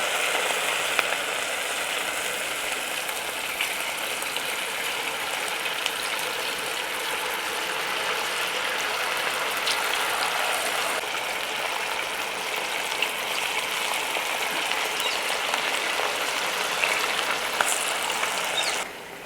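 Chicken pakora pieces frying in hot oil, a steady, dense sizzle and crackle that holds at an even level throughout without any talk.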